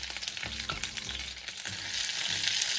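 Carrots frying and sizzling in a saucepan for a Thai massaman chicken curry, a steady hiss with occasional stirring clatter, close and alone without talk.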